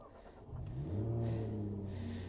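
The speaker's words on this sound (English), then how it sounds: "I'll turn on the ignition so you can see it." A Jaguar F-Type 400 Sport's engine fires up with the ignition, surging into a brief rising rev before settling into a steady, close, loud idle rumble.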